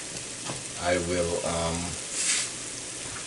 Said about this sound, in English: I've added the curry paste in here, and it has to cook for at least 2 or 3 minutes